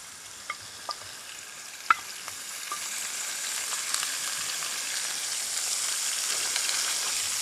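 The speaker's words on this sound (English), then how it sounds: "Get these wedges and oil in now. Hopefully it doesn't sizzle too much." Potato wedges hiss and sizzle in hot oil on a camp stove at a woodland campsite, with a few clicks of the pan at first, then a steady, moderate frying crackle.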